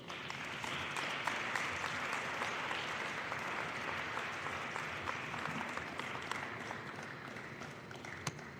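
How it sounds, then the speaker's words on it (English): Sustained applause from a large crowd at an arena rededication ceremony, a dense steady wash of clapping throughout, heard from a distance. "give another round of applause"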